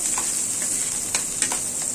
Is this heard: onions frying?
yes